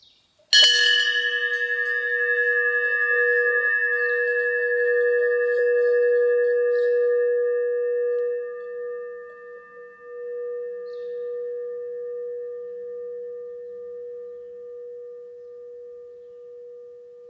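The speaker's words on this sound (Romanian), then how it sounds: "aș vrea să ascultați cum face un clopot când, efectiv, se golește de orice" A single bell struck once rings out with a bright, sustained metallic tone that slowly fades away over many seconds, heard alone with no other sounds.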